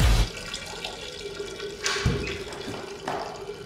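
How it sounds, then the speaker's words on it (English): Urine splashing into a toilet bowl of water, a steady watery trickle with a few louder gushes, close and moderately loud, no talking over it. "listen to my urine hit the water"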